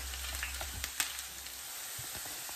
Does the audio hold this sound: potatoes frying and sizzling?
yes